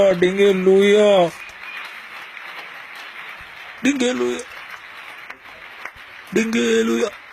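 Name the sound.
audience clapping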